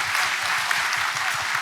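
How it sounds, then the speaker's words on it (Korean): Steady, dense applause from a seated audience at a 2019 talk concert, close and continuous with no gaps, all hands and no voices on top. "박수 한 번만 더 주십시오."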